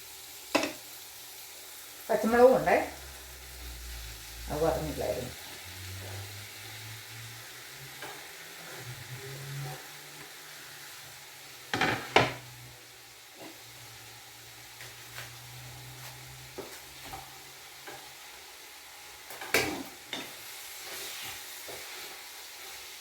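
Raw plantain frying in a pan, a soft low sizzle near the mic broken by a few scraping stirs and knocks of the spoon.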